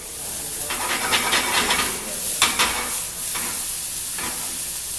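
Turkey and vegetables sauté in a hot pan with a loud, continuous sizzle, broken by repeated scraping stirs and bursts of hiss.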